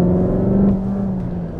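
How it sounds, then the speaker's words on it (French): A Cupra Terramar plays an artificial engine sound through its speakers, a steady low synthetic drone that swells slightly and then eases as the car moves, heard alone without talk. "qui sort des haut-parleurs et qui est censé nous imiter un gros moteur"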